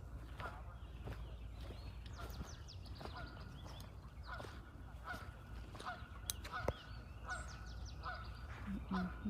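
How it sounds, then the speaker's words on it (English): Geese honking out on the water, repeated distant calls scattered across the scene over a low rumbling outdoor background, with a voice talking at times. "That's the geese. They're actually out here on the water."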